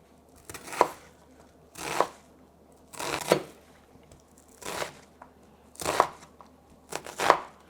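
Knife dicing an onion on a cutting board for a vegan eggplant and zucchini stew, six evenly spaced crisp chopping strokes about a second apart, close and clear with no talk.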